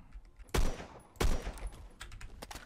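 Two loud FAL rifle shots ring out about two-thirds of a second apart in Roblox Phantom Forces, each a sharp crack with a short tail, followed by fainter clicks and small game noises.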